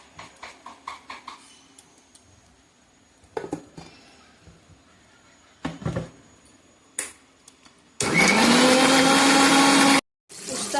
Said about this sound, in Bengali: এখন মশলাগুলো গ্রাইন্ড করে নেব। পেঁয়াজ, রসুন, আদা, কাঁচা লঙ্কা, টমেটো এগুলো সব পেস্ট করে নেব।